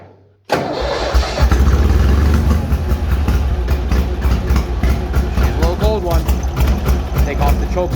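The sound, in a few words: Bolens HT-23 tractor engine running after choke start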